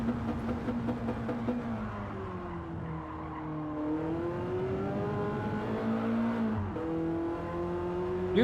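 A BMW M3 in a Gran Turismo driving game roars steadily, its engine pitch climbing and dipping through gear changes as it accelerates, with tire squeal sliding in and out under a sustained, close, continuous drone.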